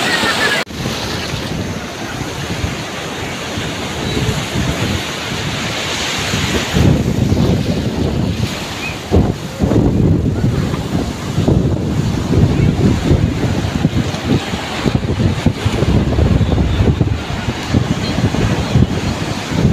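Ocean surf rolls in steadily at Puri Beach, with loud wind buffeting the microphone throughout and the waves washing continuously close by.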